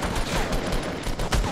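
Gunfire in the Fortnite Battle Royale video game on Xbox One, a dense continuous burst of rapid shots that holds steady throughout at moderate loudness with no talk over it.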